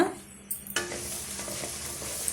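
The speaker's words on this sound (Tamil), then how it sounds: "நம்ம எடுத்து வச்சுருக்க வேர்க்கடலை கடலைப்பருப்பு உளுத்தம்பருப்பு இது எல்லாமே சேர்த்துக்கிட்டுக்கலாம்" Peanuts, chana dal, urad dal and dried red chillies fry in hot oil for temple-style puliyodharai. A steady close sizzle runs throughout, broken by sharp stirring scrapes near the start.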